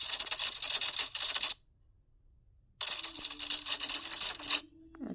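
Typewriter sound effect added in CapCut: two loud bursts of dense, rapid clacking keystrokes, separated by a short silence, ending with a brief ringing tone like a carriage bell.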